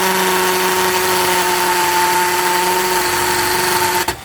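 An imax IMCD-20GT cordless drill bores into concrete with a loud, steady whining drone that runs continuously and then cuts off just before the end.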